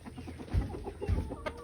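Roosters clucking in short, low bursts, close by and moderately loud, with a brief higher call near the end.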